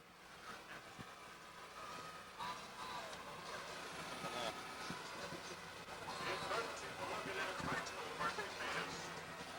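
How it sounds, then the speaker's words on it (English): A generator runs steadily on the back of a parade float truck at an outdoor pumpkin festival parade, a continuous engine drone mixed with crowd noise and nearby voices throughout. "the generator in the back of that truck's going to make it a little hard to hear Monster Mash"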